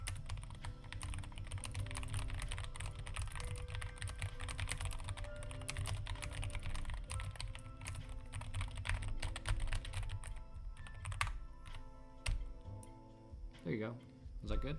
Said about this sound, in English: That's me typing a little bit loud.